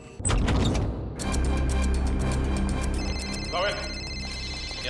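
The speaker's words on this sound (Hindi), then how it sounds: "सर फोन की घंटी बज रही सर।" A telephone rings indoors, its repeated electronic tone going on under tense voices that talk over it throughout.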